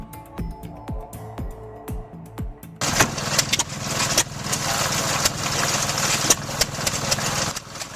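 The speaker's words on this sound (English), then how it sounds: "Equipped with a rare sandwich engine, this vintage wood splitter exemplifies a combination of historical craftsmanship and mechanical strength." Vintage firewood splitter driven by a rare sandwich engine, heard sputtering through a few uneven firing pulses and then settling into a loud, steady running roar close by, with no voices.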